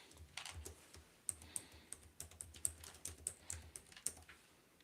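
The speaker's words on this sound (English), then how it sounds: "let me just finish typing this real quick." Steady typing on a computer keyboard, with quick irregular key clicks, close and clear, and no voices.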